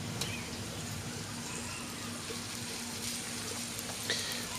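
Meatballs sizzle in butter on a Blackstone Adventure Ready 17-inch tabletop portable griddle, a steady, fairly quiet crackling hiss that runs unbroken under a faint low hum.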